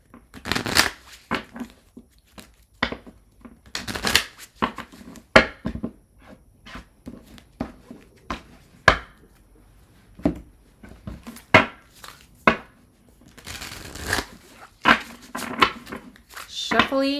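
Tarot cards being shuffled by hand in repeated crisp riffling bursts and soft slaps, close and intermittent, with someone talking between and over them.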